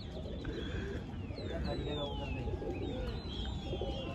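Pigeons coo softly and repeatedly on a rooftop in Delhi, faint and somewhat distant under steady background noise and occasional talk.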